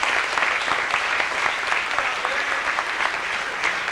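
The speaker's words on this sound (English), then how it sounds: "So I just want to give these people a great round of applause." Audience at a 1995 high school football and soccer banquet applauding the school's runners, with dense, steady clapping holding at an even level throughout and a few voices faintly mixed in.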